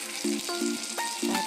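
Potato pieces fry in a pan for an Assamese kalmou greens stir-fry, giving a continuous close sizzle with clear tonal notes sounding over it.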